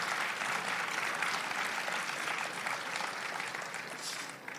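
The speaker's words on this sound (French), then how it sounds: "applaudissez-les" A crowd applauds steadily, a dense wash of clapping that holds for several seconds and begins to fade at the end.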